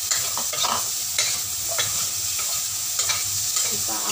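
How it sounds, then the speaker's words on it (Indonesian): A spatula scrapes and stirs yellow pumpkin chunks through fermented black soybeans in a hot pan, with a steady sizzle underneath and repeated close scraping strokes roughly every half second. "Kita aduk sebentar."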